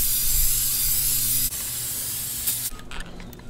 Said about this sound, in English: I'm gonna use some brake cleaner just to get all this good and cleaned up before I put the new stuff on